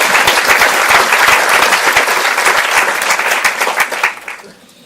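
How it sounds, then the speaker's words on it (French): A conference audience applauds with dense, sustained clapping that fills the room, loud and steady before tapering off and fading out at the end. "Donc, pour eux, vous pouvez les applaudir."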